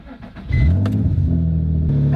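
A used car with a modified, louder exhaust cranks, fires up and revs, a deep throaty rumble that jumps in loud and settles into a steady idle close by.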